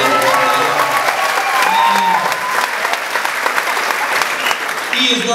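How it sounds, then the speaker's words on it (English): Loud, close applause from a comedy show audience, sustained clapping with some crowd noise and voices mixed in. "a big round of applause, Mr. Barry Hilton, for bringing me out here."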